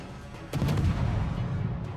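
Deck guns on the warship HMS Lightning in World of Warships fire shells, one sharp booming report with a rolling low rumble that lingers and fades, preceded by quieter ambient noise.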